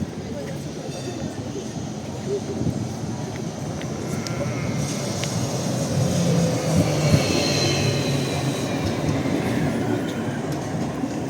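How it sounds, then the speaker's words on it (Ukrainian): A tram rumbles along its rails in Lviv in a steady, loud roll with faint clattering, traffic noise around it, and no voices. "Червоний трамвай зустрічає сирний трамвай."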